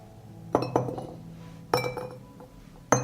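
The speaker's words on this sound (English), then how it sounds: "I add a clove of garlic to each jar." A garlic clove dropped into a clean glass jar, then more jars: sharp glassy clinks, three or four distinct hits each ringing briefly, close and clear with no talking.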